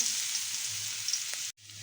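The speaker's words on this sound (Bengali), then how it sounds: "রসুনগুলো ভালোভাবে ভাজা হয়ে গিয়েছে" Seven or eight cloves of grated garlic fry in oil in a pan, giving a steady, even sizzle close up that cuts off abruptly near the end, then resumes more softly; no one speaks.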